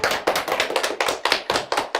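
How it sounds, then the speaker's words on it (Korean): Audience applause for a guest lecturer at a Korean history lecture, a steady run of sharp, close hand claps in quick uneven rhythm with no voices over it. "선생님께 박수 한번 부탁드립니다."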